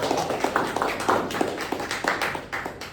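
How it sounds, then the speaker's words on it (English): Club meeting attendees applaud the grammarian: a steady patter of claps from a small group, fairly close and moderately loud, continuing evenly throughout without speech. "So I'll like to give an applause to our grammarian for today."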